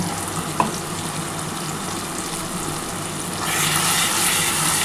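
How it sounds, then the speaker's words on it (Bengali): Spice paste frying in a pan for a spicy potato and chicken curry, sizzling steadily before a splash of water hits the hot oil and the hiss grows louder and brighter. "সেই মশলাটা দিয়ে দিচ্ছি। এই যে দেখো মশলাটা দিয়ে দিলাম। এর মধ্যে একটু সামান্য জল দিয়ে ঢেলে দেবো।"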